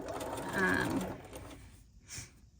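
A sewing machine runs a long basting stitch for about a second and a half, a quiet steady whirring that then stops, leaving faint room noise.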